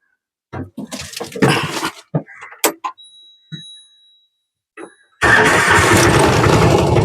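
A few bursts of speech and knocks, then the diesel engine of a Piaggio Ape City Plus auto rickshaw with 10,000 km on it starts abruptly and settles into a loud, rough, continuous idle nearby.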